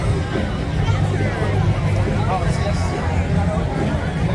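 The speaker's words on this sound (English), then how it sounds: "let me zoom into more of the crowds out there" Dense crowd hubbub at Holidays in the Park in Burbank, a steady wash of many overlapping voices and chatter, loud and continuous throughout.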